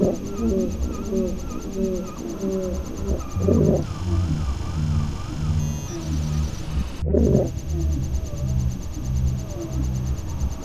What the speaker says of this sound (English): Just seagull sounds and just those simple tape techniques